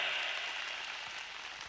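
Audience applause from a live comedy show crowd, a steady wash of clapping heard alone, fairly soft and gradually tapering off.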